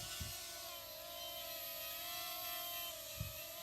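A camera drone descends toward its landing spot over a coastal area, its rotors giving a steady high-pitched whine and buzz, close and continuous, with a couple of soft thumps of handling and no talking.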